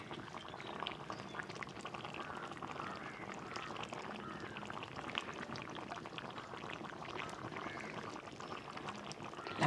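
Coconut oil poured over a simmering anchovy and mango aviyal, a soft steady sizzling bubble of liquid in a pan, faint and continuous.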